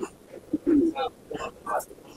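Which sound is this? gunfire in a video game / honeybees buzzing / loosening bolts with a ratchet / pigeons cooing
pigeons cooing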